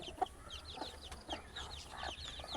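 Desi hens in a village coop, one with chicks, cluck repeatedly in short, steady bursts at moderate distance, with no talk over them.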